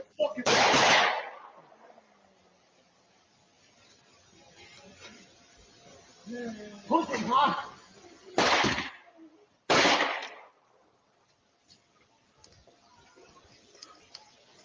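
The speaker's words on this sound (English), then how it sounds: "Shotgun." Sharp, loud shotgun blasts from played video footage, several separate shots spaced seconds apart, with brief murmured talk between them and quiet gaps.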